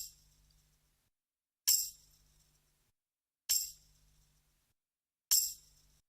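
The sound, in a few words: tambourine sample in trap beat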